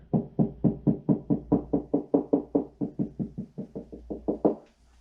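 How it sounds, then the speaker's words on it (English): A hand knocks on drywall to find a stud behind it, some twenty quick, close knocks in an even rhythm, their tone changing slightly partway through, from hollow to more solid, with no talking. "You can just use your hand and knock, and you'll hear when it becomes solid, there's a 2x4 behind it"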